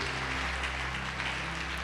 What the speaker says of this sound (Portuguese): Quem é a igreja pode aplaudir e glorificar.